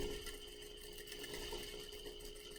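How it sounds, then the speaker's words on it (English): A sewing machine runs a short forward stitch, backstitches, then goes forward again on a French seam, giving a steady close mechanical hum at an even level throughout. "I'm going to go ahead and do a little stitch forward, do a back stitch, and then forward again"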